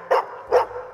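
On a televised talent-show stage, a dog barks on command, giving two sharp, loud barks close by with a short pause between them and no talk over them.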